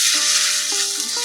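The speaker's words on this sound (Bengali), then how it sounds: "তো এদিকে দেখো ডিম ভাজা করছি।" An egg frying in a pan gives off a soft, continuous sizzling hiss, with faint steady tonal sounds humming in the background the whole time.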